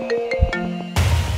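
A phone ringtone plays a repeating tonal melody with short chimes, then cuts off abruptly into a burst of noise.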